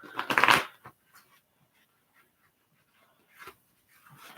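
Tarot cards being shuffled by hand, a short burst of loud riffling and flicking at the start, then quiet with a few soft card slides and taps.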